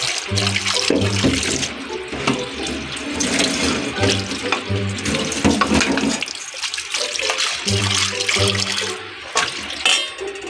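Water running steadily from a tap while dishes are washed up, a continuous splashing stream with brief clatter and pauses as the flow hits the sink.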